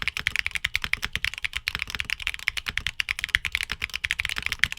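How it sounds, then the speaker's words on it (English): Fast, crisp keyboard clacking from Gateron Beer tactile switches, a steady dense rhythm of sharp, bright, high-pitched key strikes, close up with no talking. "the Gateron Beer switches have a loud, pronounced sound signature, perfect for those looking for high-pitched clacks"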